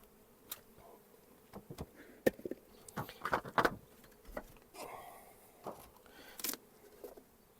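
Bees buzz around a hive amid scattered clicks and knocks of handling, the humming rising and falling at close range.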